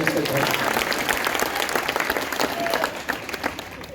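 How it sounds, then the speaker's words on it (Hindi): An audience claps after a poetry recital at a nighttime memorial gathering in India. The applause is steady and dense and fills the whole stretch at moderate loudness, with scattered voices mixed in. "उनके अद्भुत काव्य पाठ के लिए आपकी एक बार आशीर्वाद की तालियां दें"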